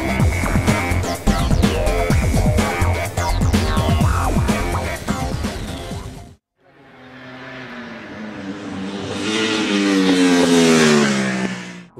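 A Ducati 1199 Panigale superbike on the Mugello circuit: after a stretch of music, the engine's note climbs steadily in pitch and volume, revving hard as it accelerates.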